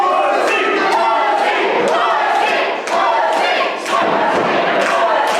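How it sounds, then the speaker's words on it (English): A pro wrestling crowd roars and shouts in loud rhythmic bursts, the collective yelling pulsing roughly once a second with thuds mixed in, close and dense throughout. "The crowd with some choice words."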